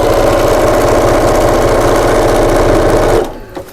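A sewing machine runs a continuous fast stitch over a table runner seam, going over the original stitching. It holds a steady mechanical whir for about three seconds, then stops abruptly and leaves a brief quiet tail.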